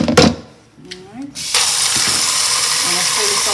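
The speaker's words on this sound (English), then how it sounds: "I'm going to fill it with water." Water gushes steadily into a pot after some brief clattering and handling sounds, a continuous hissing pour that fills the rest of the clip.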